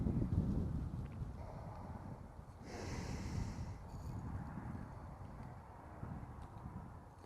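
Outdoor wind buffets the microphone in a loud, continuous low rumble with gusty fluctuations and brief rustling, close and unsteady throughout.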